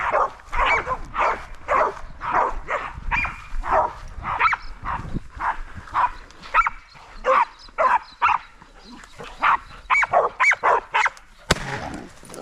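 A hunting dog barks repeatedly in loud, rhythmic bursts while catching a wild boar in the Australian bush, with some yips mixed in and a sharp noise near the end.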